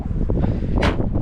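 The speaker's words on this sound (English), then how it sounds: "it is very windy outside and it's very cold" Low, rumbling gusts buffet the microphone constantly, with a sharper rushing whoosh surging up near the end.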